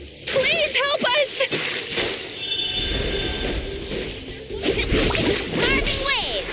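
A character surfs across waves in Genshin Impact, with sloshing water, splashes and whooshing swishes over several seconds, heard close amid game voices and effects.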